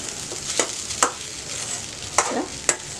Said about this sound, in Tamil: நல்லா கலக்கி விடுங்க